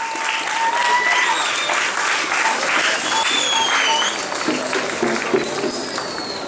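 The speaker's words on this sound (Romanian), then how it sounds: "Vă rog să aplaudați!" Audience applause at a Romanian folk festival in Șimleu, where guests are welcomed with the traditional colac: a dense, sustained wash of clapping with a crowd murmur and some whistling, fairly loud and continuous.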